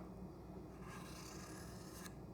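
A knife edge drawn back across a sharpening stone to strip the burr from one side, giving a steady close rasping scrape that brightens partway through, with no talk.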